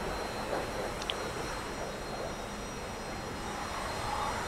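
Steady jet engine drone of a T-45 trainer in the DCS flight sim as the throttle eases back, a constant even roar with faint tonal whine and no voice over it.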